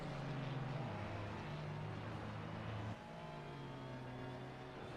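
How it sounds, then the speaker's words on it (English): A race car in a Pirelli World Challenge round at Circuit of the Americas drones at high revs, the engine pitch holding steady before dropping with a gear change partway through, loud and continuous with no talk. "You can hear quite well how he worked with the gearing to get rotation over engine RPM in the first sector."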